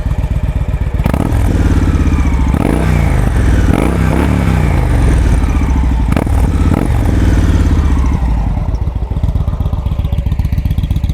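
A 2016 Victory Judge motorcycle with performance exhausts idles with a throaty, loud exhaust, then gets several sharp throttle blips that rise and fall, with crackles on the overrun, before settling back to idle.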